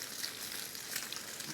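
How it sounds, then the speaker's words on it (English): Bacon sizzles in hot grease in a small pan on a Jetboil MiniMo camping stove, a soft, steady crackle with faint pops and no talking. "All that hot bacon grease and this pan being so hot."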